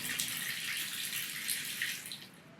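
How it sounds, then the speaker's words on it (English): Water being dumped out of a hog pan in the gold-prospecting game Gold Rush: The Game, a steady splashing pour that runs continuously and tapers slightly at the end, with no talk. "All right, dump out that water."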